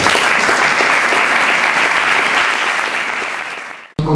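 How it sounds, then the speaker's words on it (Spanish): Loud, sustained applause from an audience greeting a speaker at a historical commemoration, many hands clapping evenly before fading and cutting off abruptly with a sharp knock at the end. "Pido un fuerte aplauso para Manuel"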